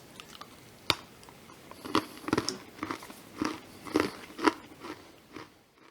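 Close-up crunchy bites and chewing of pumpkin spice toffee with pecans, sharp cracks followed by a run of rhythmic crunching chews, fairly quiet with no speech.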